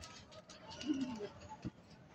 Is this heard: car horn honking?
no